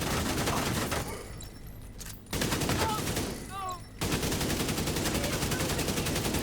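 Rapid bursts of video game shooter gunfire, near and loud, filling most of the stretch with two brief lulls where faint chirpy game sounds come through.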